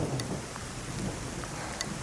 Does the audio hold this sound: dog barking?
no